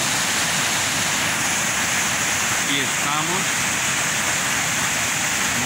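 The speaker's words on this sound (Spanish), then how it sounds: "mostrando la caída del agua que viene desde allá arriba, desde allá" Water pours down from the Presa Victoria dam in Tlalpujahua, Michoacán, making a loud, steady, broad roar that fills the whole stretch, while someone briefly speaks over it.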